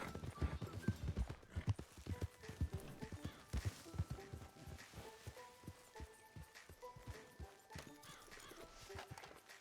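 Hooves clip-clop in a quick, steady rhythm as a horse moves along in Red Dead Redemption 2, with a faint whinny in the background; no talking.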